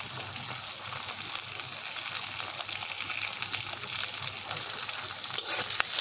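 Garlic and green chilli fry lightly in hot oil in a pan, giving a continuous close, bright sizzle with occasional soft stirring and no talk.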